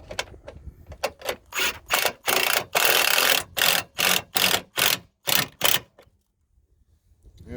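A ratchet tightens an end connector during a hidden light bar install, a fast run of loud clicking bursts in quick strokes that then stops into near silence.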